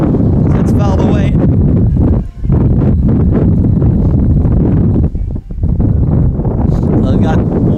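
Strong gusts of nearly 40 mph roar across an outdoor softball field during a college game, heavy buffeting rumble battering the microphone almost continuously, with brief lulls and a voice mixed in.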